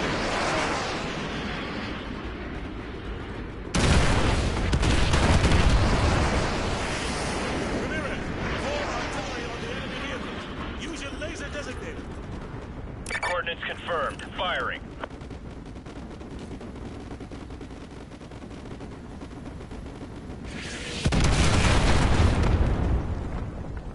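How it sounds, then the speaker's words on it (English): Artillery strikes in Call of Duty Modern Warfare: heavy booming explosions and rumbling blasts over a continuous battle din, with voices heard intermittently. "Fire mission received. Artillery inbound."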